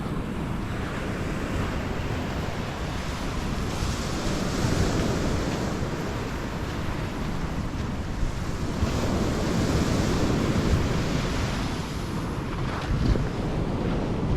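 Steady roar of waves breaking along a beach in Spain, heard from a seaside boardwalk, with constant wind buffeting the microphone throughout and no voices.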